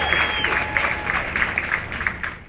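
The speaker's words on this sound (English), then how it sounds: "Give yourselves a round of applause." Applause from the assembled families and trainees at a Space Force basic military training graduation ceremony on an outdoor morning, a steady wash of clapping that carries on throughout with a faint tone in the background.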